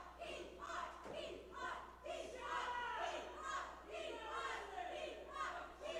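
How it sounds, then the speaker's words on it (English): A wrestling crowd at a Black Diamond Wrestling event chants in steady, rising and falling waves, the voices blending into a loud, continuous, rhythmic roar. "The crowd, you can hear they're chanting Keith Hot"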